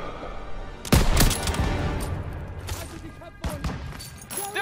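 Machine guns lay down suppressive fire in a World War 2 video game battle, loud rattling bursts and sharp shots stacking up close, with shouted voices in between.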